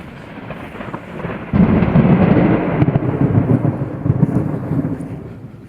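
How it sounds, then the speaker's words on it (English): Thunder from a nearby lightning strike during a storm, with a sudden loud crack that becomes a long, deep rolling rumble and slowly fades, heard over steady rain. "Yeah, that's striking right over the house almost."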